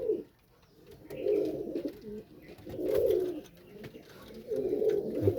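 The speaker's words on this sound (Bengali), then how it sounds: "কি সুন্দর পায়রা দেখেন শুধু" Pigeons cooing close by in three rounded, throaty bursts separated by short pauses, with no people talking.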